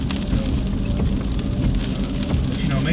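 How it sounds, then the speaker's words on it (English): Rain pattering steadily on a truck while it drives, a dense wash of drops over a low road and engine rumble, continuous and fairly loud, with no talking. "it's raining, so I'm taking my time"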